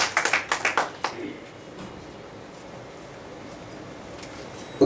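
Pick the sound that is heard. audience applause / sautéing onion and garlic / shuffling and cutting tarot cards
audience applause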